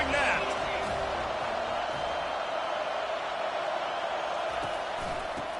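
Football stadium crowd cheering at a Pitt game, a dense, loud wash of roaring voices that holds steady throughout, with a commentator talking over it.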